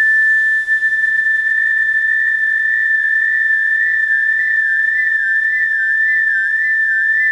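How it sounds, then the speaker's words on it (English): MFOS Echo Rockit synthesizer producing a pure whistle-like tone whose pitch begins to waver as an LFO modulates the echo delay, the wobble growing steadily into a regular vibrato, loud and alone with no voices. "And now I'm going to go ahead and start to modulate the echo delay."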